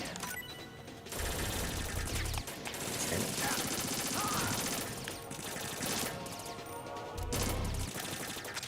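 Sustained bursts of gunfire in Metal Gear Solid 2, dense rapid shots and crashes filling the soundscape loudly with brief pauses between volleys, with a player talking over it.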